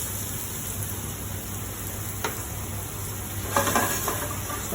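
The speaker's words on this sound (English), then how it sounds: "We're going to put about 3 tablespoons of olive oil into the pan. We're going to start with our onions on a medium heat." Onions frying in about three tablespoons of olive oil in a pan over medium heat: a steady, even hiss of sizzling, close and constant, with a couple of faint clinks of a utensil against the pan and no speech.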